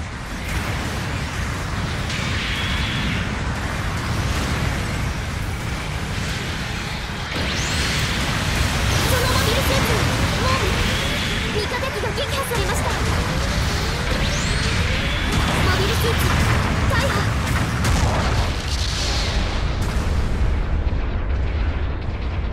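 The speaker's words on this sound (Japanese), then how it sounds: "砲撃が来ます。" Artillery shells pound the battlefield in Gundam Battle Operation 2, a continuous loud barrage of overlapping booms and crashing explosions that rolls on without pause.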